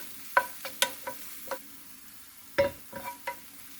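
Garlic frying in oil over low heat in a tilted pan, a soft sizzle with a series of distinct clacks and scrapes from stirring, some spaced and some clustered.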